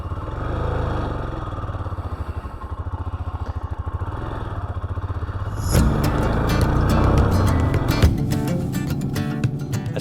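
A loaded touring motorcycle riding solo along an empty highway up Western Australia's coast toward Carnarvon, its engine droning steadily with wind roar, then louder and rougher with clattering buffeting partway through.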